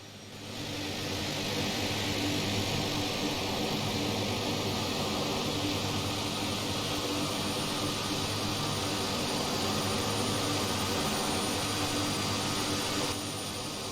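Aerosoft Twin Otter Amphibious turboprop engines running in Microsoft Flight Simulator 2020, a loud, steady whining roar with a low hum underneath that holds evenly for the whole stretch after a quick rise at the start.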